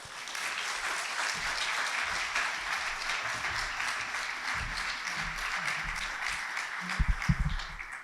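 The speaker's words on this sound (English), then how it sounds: "So let's give a round of applause for Dimity, and come on up." Sustained audience applause at a school event honoring seniors, steady dense clapping from a crowd throughout, with a few louder, closer claps near the end.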